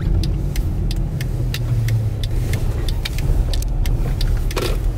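Inside a moving Mercedes ML, a steady low road and engine rumble fills the cabin, with light ticking and rattling above it, loud and continuous with no talking.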